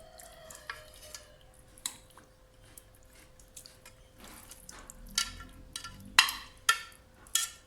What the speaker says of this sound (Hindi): ये देखें, अब हम ये सालन इसमें ऐड कर देंगे।